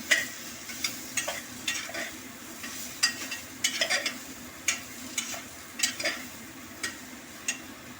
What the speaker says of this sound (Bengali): এবার ডালটাকেও আমি লাউয়ের সাথে একটু মিশিয়ে নেব।